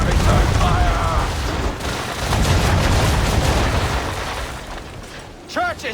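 Naval cannons boom across an Assassin's Creed 3 ship battle at sea, a dense, continuous barrage of heavy blasts and crackling impacts with voices shouting over the din near the end.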